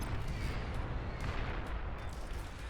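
Artillery bombardment in the strategy game Beyond All Reason, a constant dull barrage of overlapping distant booms and thuds that rumble on without a break at moderate volume.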